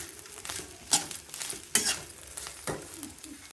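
Bitter gourd slices frying and sizzling in a pan, with a steady crackle and several louder scraping stirs, close and fairly quiet, no talk.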